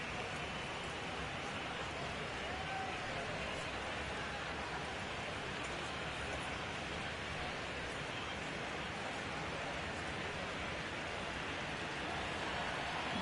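Steady, dense hiss of heavy rain falling on a baseball stadium in MLB The Show 19, an unbroken wash of noise with no clear breaks.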